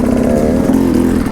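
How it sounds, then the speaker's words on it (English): Two-stroke enduro motorcycle pulling hard in first gear on a winter ride, a loud, close, steady buzzing engine note that holds strong throughout with no talk over it. "First gear is so much more impressive on this bike than it was on the 4-stroke"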